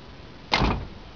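A single solid thunk as the door of a 1958 Edsel swings shut, close and fairly loud, with a short dull tail after the impact.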